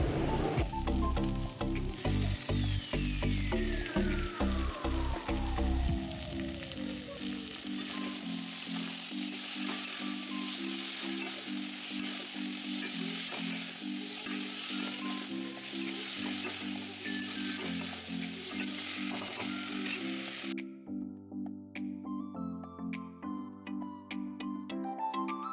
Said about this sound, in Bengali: এবার দিয়ে দেব নুন আর সামান্য হলুদ দিয়ে ভালো করে এটাকে ভেজে নেব